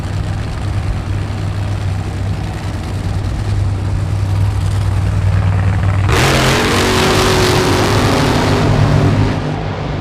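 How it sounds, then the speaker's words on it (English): Three nitro Funny Car drag racing engines roar continuously, then surge into a harsher, heavier blast partway through as they roll into the burnout during qualifying. "So a trio of nitro engines rolling through into the burnout"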